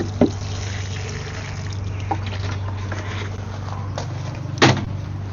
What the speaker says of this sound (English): Let's water it in.